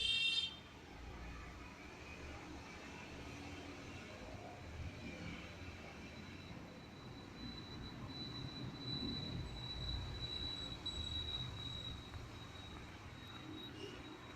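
Quiet continuous rumble of a train in the railroad video game Deckeleven's Railroads running along rails with a faint high squeal, steady throughout with no voices.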